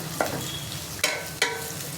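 Onions frying in hot oil with mustard seeds and cumin, cooked as the base for a children's beetroot dish. A steady close sizzle is broken by a few sharp stirring clicks.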